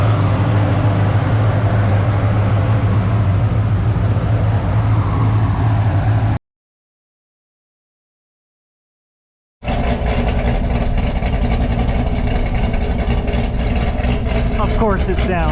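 A GMC truck's 6.0 LQ4 V8 with Texas Speed Heads cam, running warm without its turbo, holds a loud, steady, close rumble that cuts to silence midway and then resumes.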